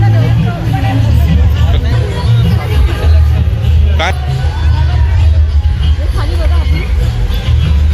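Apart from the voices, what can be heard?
crowd babble at Kokan festival in Vikhroli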